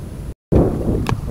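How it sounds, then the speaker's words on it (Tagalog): Loud, heavy wind buffeting the microphone in low rumbling gusts, briefly cut off, then roaring again. "Hindi ba malakas na rin yung hangin?"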